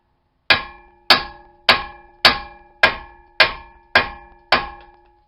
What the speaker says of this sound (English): normally you just gotta kind of beat on the knuckle a little bit,